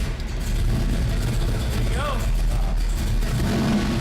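A car engine revs up under throttle in a loud, close, rumbling surge that holds steady and shifts slightly in pitch, while a voice speaks over it partway through.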